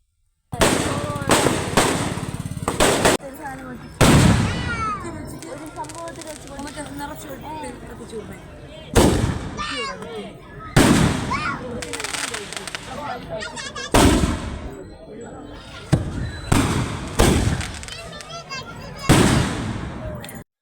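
Repeated loud firecracker bursts explode in irregular clusters after a Kalamkaval temple ritual, each followed by crackling, with people talking in the background between blasts.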